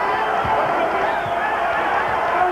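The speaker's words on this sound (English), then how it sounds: "And the Thomas and Mack crowd is into this one." A packed basketball arena crowd at the Thomas and Mack Center roars steadily through a 1995 UNLV vs Michigan college game, with a dense, continuous wall of cheering and murmur and a few low thumps underneath.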